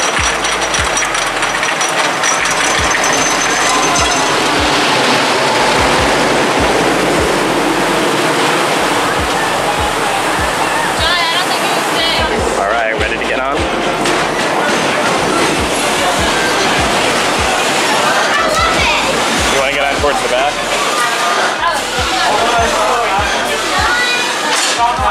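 Twister roller coaster running at an amusement park, a loud continuous rushing rumble of cars on track with rattling and wind, voices and shouting mixed in.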